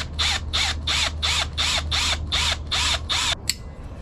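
A wood screw is driven into a small oil pump fitting on a JDM K24A engine with about nine evenly spaced, sharp ratcheting bursts, close and clear, then a single click and a pause.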